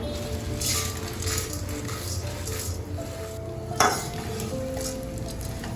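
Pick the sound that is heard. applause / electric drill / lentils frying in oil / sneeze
lentils frying in oil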